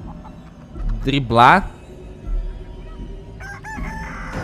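A rooster crows loudly in a chicken coop in the video game Chicken Feet, a short strained call followed by softer clucks, with someone talking over it at moments.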